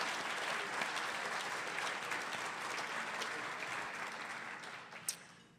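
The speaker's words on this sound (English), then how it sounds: "Please join me in a warm round of applause for all of them." Forum audience at a City Club gathering in Oregon gives a warm round of applause, a dense, fairly faint and even wash of clapping that tapers off near the end, with one sharp knock.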